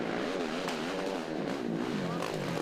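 ATV engines screaming at the rev limiter during a GNCC cross-country race through the woods at Steele Creek, a loud continuous buzzing drone with wavering pitch, close and steady throughout with no pauses.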